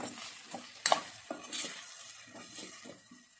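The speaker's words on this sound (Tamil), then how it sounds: "மசாலா எல்லாமே கலந்து வரட்டும் நல்லா ட்ரையாக வறுத்துருங்க" Masala is stirred and dry-fried in a pan with irregular scraping and clinking of a spoon against metal over a faint sizzle, close and fairly quiet.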